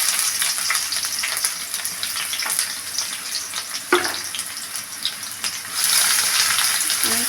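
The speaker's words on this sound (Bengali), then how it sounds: "সেই পেঁয়াজগুলো আমি এখন তেলের পাট দিয়ে ভেজে নেব" Chopped onions frying in a pan of oil for chicken biryani, browning into crisp fried onions: a steady close sizzle with a single clink near the middle, growing louder and denser toward the end.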